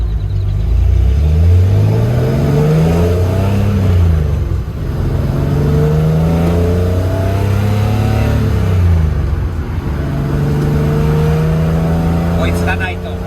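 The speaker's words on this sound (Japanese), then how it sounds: "かっこいいスバル WRX が来ましたね。" Subaru WRX engine revving on a road in the United States, a loud engine rising and falling through gear changes as the car drives close by, with people talking over it.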